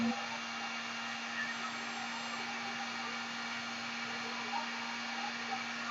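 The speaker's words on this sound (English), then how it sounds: "This heat gun gets extremely hot and it will just melt your model if you're not careful" A continuous blowing hum of a heat gun runs steadily throughout, with a constant tone and no pauses.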